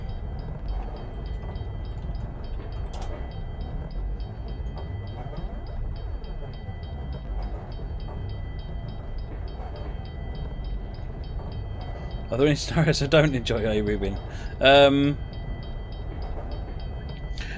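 NH FL9 locomotive in Train Simulator 2016 running along the Springfield Line, a steady rumble of wheels on rails with rhythmic clicks, while someone talks over it for a couple of seconds near the end.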